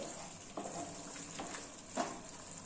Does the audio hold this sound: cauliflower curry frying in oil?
yes